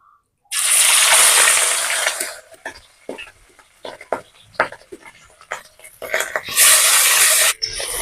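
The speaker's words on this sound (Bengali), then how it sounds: "তেলটাকে গরম করে নিয়েছি, এবার মাছগুলোকে আমি এক এক করে ভেজে নেব।" Hilsa fish, full of roe, hit hot mustard oil with a loud burst of sizzling, then sputter and crackle in uneven pops before another strong hiss rises as the next piece goes in.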